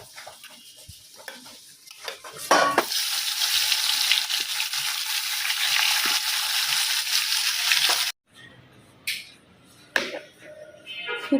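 Two koi fish frying in a pan, a loud sizzle that swells after a few seconds and cuts off abruptly, followed by quieter clatter and scraping.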